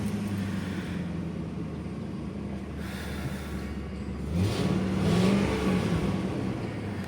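A 2003 Ford F-250 Super Duty XL pickup runs with a steady, close engine rumble that swells midway as it revs briefly, then settles back to a loud idle.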